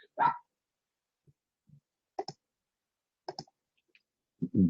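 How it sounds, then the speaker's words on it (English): A dog barks a few times: short, sharp barks spaced out with long gaps of quiet between them, moderately distant and not very loud. "did I hear a dog?"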